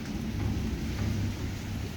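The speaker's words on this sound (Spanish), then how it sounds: "Y está lloviendo re poco." Steady rain falls on a motorhome, a continuous broadband hiss with a low rumble beneath, moderately loud and even throughout with no talking.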